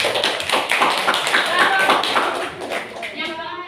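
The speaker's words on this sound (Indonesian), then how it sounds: "Tepuk tangan." Several people clap their hands together in a quick, dense patter, close and lively. The clapping thins out toward the end, and a voice speaks briefly under it.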